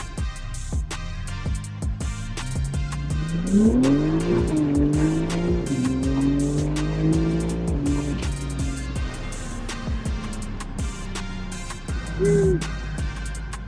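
A BMW G82 M4 xDrive with aftermarket axle-back exhaust, midpipe and intakes pulls hard: a loud, rising engine roar climbs through the revs, with sharp crackles and a brief tire squeal near the end.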